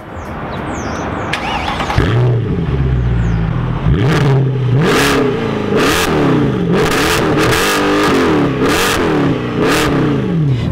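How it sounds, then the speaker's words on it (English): A Mercedes-Benz C63 AMG Coupe V8 starts up with a bark, then revs again and again in a run of loud, close, rising-and-falling blips, its deep exhaust note standing alone with no talking. "You've just heard one of the most monstrous V8 exhaust notes known to man."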